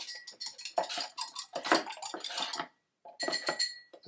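Bourbon is stirred in a container, making quiet clinks and scraping taps in short bursts, with a brief pause before the stirring resumes.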